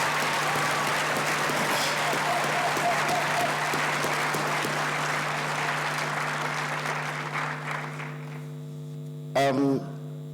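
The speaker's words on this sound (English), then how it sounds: "let us give our graduates, graduates this afternoon a warm round of applause, including our honorary doctorate recipients" Warm audience applause for graduates at a university graduation ceremony, a broad sustained clapping in a large hall over a steady electrical hum, fading toward the end before a short spoken sound.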